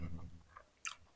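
Crunchy Indomie instant noodles chewed close to the mic, a few soft bites followed by one sharper crisp crunch near the end, with no talking.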